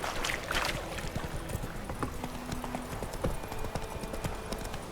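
Horse hooves clip-clop in a quick, steady galloping rhythm in the video game The Witcher 3, close and continuous over a soft outdoor ambience.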